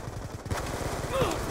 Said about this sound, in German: Auf einen Verbündeten schießen.